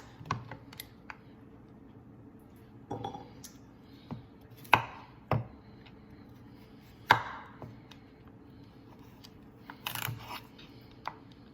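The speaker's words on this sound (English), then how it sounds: "cutting off the ends of our radishes, and then we're going to quarter them like this" Knife chopping radishes on a cutting board, a series of sharp, irregular taps and thuds close by, with short pauses between cuts.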